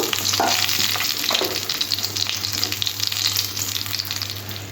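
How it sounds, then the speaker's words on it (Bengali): Pieces of bata fish fry in hot oil in a pan, a loud continuous sizzle and crackle with occasional scraping stirs as they are turned, no voices. "মাছগুলো এপিট ওপিট করে লাল লাল করে ভেজে নিতে হবে"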